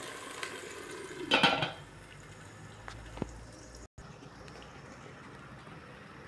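A cooking pot being covered with its lid after broth goes in: one brief, soft metallic clatter, then only a quiet kitchen background.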